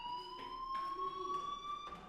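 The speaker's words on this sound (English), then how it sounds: "Hey, do you hear that fire alarm?" A fire alarm in the video game Life is Strange sounds a quiet, steady electronic tone with regular pulsing bursts, heard alone without speech.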